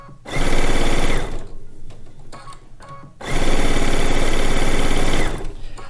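A small new sewing machine runs loud and close in two steady bursts of rapid stitching on a log cabin quilt top, with a short pause of quieter clicks between them.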